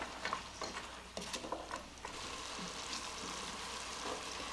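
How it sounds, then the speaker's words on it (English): Celery, carrots and other vegetables sauté in a pot for a copycat Olive Garden pasta e fagioli, a soft steady sizzle with a few light stirring clicks, quiet and close. "So I'm going to saute these for about 6 minutes."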